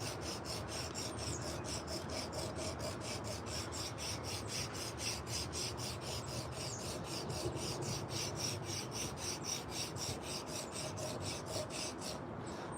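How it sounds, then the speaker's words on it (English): A high-powered sander works a hand-carved wooden spoon, a fast steady rasping buzz with a regular pulsing rhythm that continues unbroken at close range. "we'll get our high-powered sander here."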